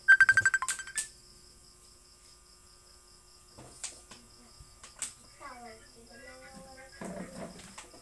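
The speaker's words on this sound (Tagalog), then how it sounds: "May tumatawag po." A mobile phone ringtone sounds for an incoming call, a quick series of bright repeated beeps at the start, followed by quiet room sounds, a few clicks and later some voices.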